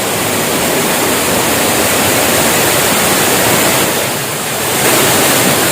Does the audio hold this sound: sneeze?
no